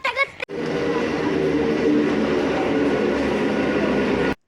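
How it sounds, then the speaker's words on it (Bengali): A passenger train travelling in the early morning, a loud continuous rumble of wheels and carriage heard from inside, steady throughout before cutting off abruptly. "তো যাত্রা করলাম আমরা ট্রেন পথে। তো ট্রেনে করে এখন যাচ্ছি"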